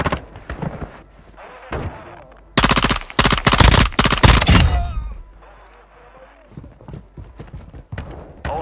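Automatic gunfire in Call of Duty Modern Warfare Warzone DMZ on the Vondel map, a loud, rapid burst of shots lasting a couple of seconds, with quieter game sounds before and after.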